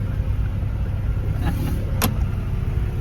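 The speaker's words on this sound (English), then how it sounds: "This car just did a burnout." A car doing a burnout, a steady, loud engine roar and rumble close by that holds through the whole stretch, with a brief sharp high-pitched chirp partway through.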